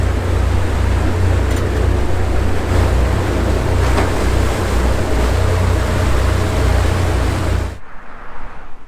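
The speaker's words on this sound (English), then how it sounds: "I've just made it here to the water bus in Rotterdam, just by Erasmus Bridge" A water bus on the river in Rotterdam near the Erasmus Bridge rumbles with a loud, steady engine drone under heavy wind and water noise, cutting off sharply near the end.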